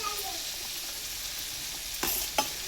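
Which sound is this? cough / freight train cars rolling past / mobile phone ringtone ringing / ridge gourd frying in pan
ridge gourd frying in pan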